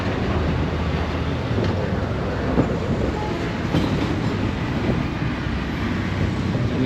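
A train at the railway station in Kandy, Sri Lanka gives off a steady, dense rumble with faint rail clatter throughout, moderately loud, with no speech.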